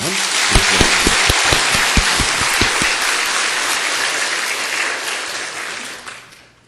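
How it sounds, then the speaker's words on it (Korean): A large church congregation applauds the choir loudly and steadily for several seconds, a few sharp individual claps standing out early before it fades at the end. "우리 성가대 수고했다고 박수 한번 하시기 바랍니다"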